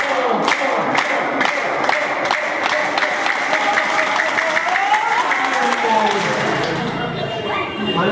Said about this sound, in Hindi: कंडीशन है सबकी ताली एक साथ बजेगी।